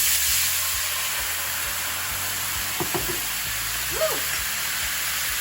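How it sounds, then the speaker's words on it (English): Red wine poured into a hot buttered pan used to sear steak sizzles and bubbles as it deglazes, a steady hiss throughout, with a short exclamation from a voice partway through. "I'm going to deglaze the pan by adding our red wine in here. And this is gonna bubble up"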